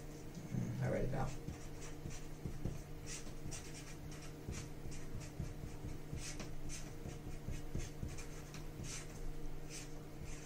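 Pen or marker strokes write an equation during an electromagnetism homework review on the Biot-Savart law, a soft scratching under steady speech and a constant background hum.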